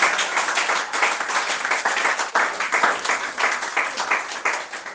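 A church congregation claps and applauds together, a dense, continuous round of hand claps that swells and dips in waves for several seconds.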